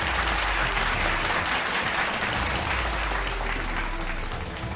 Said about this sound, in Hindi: पीएम के बैठक में पहुंचते ही बीजेपी सांसदों ने खड़े होकर ताली बजाई।